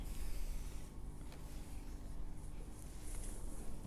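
Sewing machine stitching along the fraying edges of a Khan blanket, a steady low mechanical hum and buzz running continuously with no speech.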